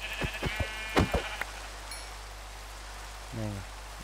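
Sheep bleating in the video game Minecraft, a single wavering bleat heard late over steady rain-like hiss, after a series of sharp hit-like clicks.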